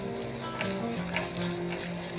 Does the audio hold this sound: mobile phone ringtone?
no